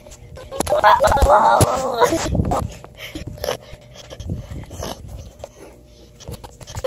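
A dog pants and whimpers while being wrestled and ridden on its back, breathy and close, with a person's voice loud over the first couple of seconds and scattered grunts and rustles after.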